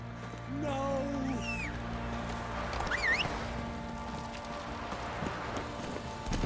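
Roach, Geralt's horse in the video game The Witcher 3, galloping with steady rhythmic hoofbeats under a droning music bed, joined by a couple of brief vocal cries and a whinny-like sweep.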